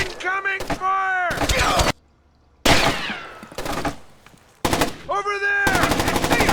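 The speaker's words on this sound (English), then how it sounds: "Incoming fire!" Automatic gunfire in the Splinter Cell: Chaos Theory video game comes in loud, close bursts of rapid shots with a short silent gap, and a voice shouts over the firing.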